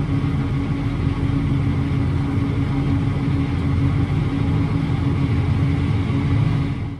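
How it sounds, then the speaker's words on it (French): Claas Arion 630 Cmatic tractor cruising on the road under cruise control, its engine a continuous heavy low drone with steady tonal hum from inside the cab, unbroken and without speech. "Le tracteur est au régulateur."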